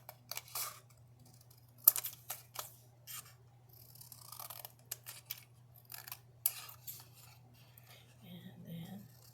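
Scissors snipping paper for a digital journal kit, a close series of quiet, irregular crisp cuts and rustles scattered over a faint steady hum, with no speech.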